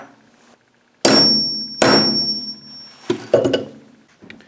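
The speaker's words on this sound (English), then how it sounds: "I'm going to go and punch a hole here." Hammer blows on a steel punch set into a bolt, marking a hole on a homemade cable crimping tool: two loud, ringing metallic strikes a second apart, followed by a couple of quicker, duller taps.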